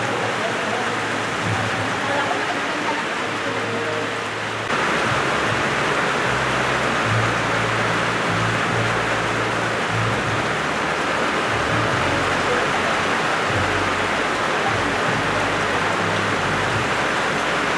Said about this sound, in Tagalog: Wala po bang ulan? So ano kaya tawag dito, no?